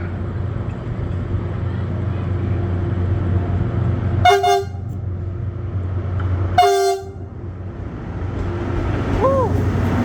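Two loud, sharp blasts of a train horn sound a couple of seconds apart over a low rumbling engine, followed by a brief rising whistle.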